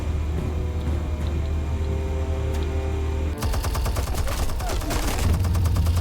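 Gunfire rattles through a wall in the Telltale Batman video game, a dense burst of rapid shots cutting in sharply midway after a low rumbling, loud and close with no talking.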